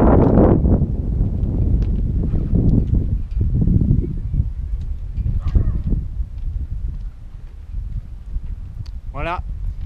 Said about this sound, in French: Il va sûrement y avoir du vent.